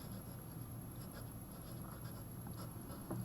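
Marker or chalk scratching across a board during a French lesson, a steady soft scraping that runs continuously and fairly faintly for a few seconds with no voice over it.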